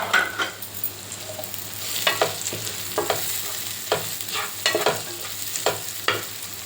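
Capsicum and onions fry in a pan for paneer burji, a continuous sizzle broken by repeated spatula scrapes and stirring knocks at an uneven pace, close and fairly loud with no voices.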